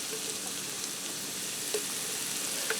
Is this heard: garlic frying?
yes